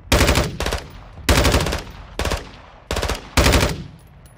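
Bursts of rapid automatic gunfire from Call of Duty: Modern Warfare II, in four loud, close volleys, each lasting about half a second with short gaps between.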